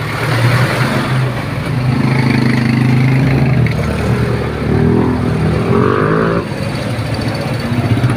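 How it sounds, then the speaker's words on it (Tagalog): Vehicles pass along a busy road in a steady, loud wash of engine noise. Motorcycles and cars swell and fade one after another, and a brief higher engine whine rises near the end. "Medyo maingay lang dito kasi marami mga dumadaan na sasakyan."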